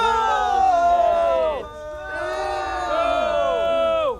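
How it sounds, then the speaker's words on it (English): A film crowd booing in two long, loud, drawn-out waves, the voices sliding downward together, with a short gap between them. "They're booing you."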